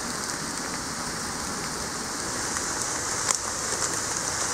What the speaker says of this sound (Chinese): 但是雨还一直下个不停